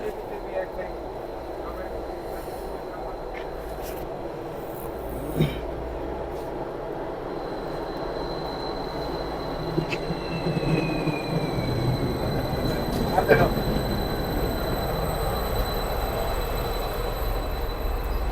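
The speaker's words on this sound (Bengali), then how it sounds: "ট্রেন চলে আসছে" A train rumbles steadily into a station in Serbia, with a constant low roar, faint wheel squeals and occasional clanks throughout.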